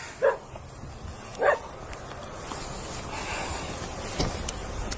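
A dog near a crime scene gives two short, loud barks a second apart, then faint rustling and a softer yip over steady outdoor noise.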